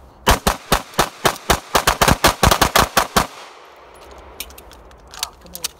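Avidity Arms PD10 pistol fired in rapid succession on a range, about fifteen loud sharp shots in a fast irregular string, then a quieter pause with faint clinks and distant sounds.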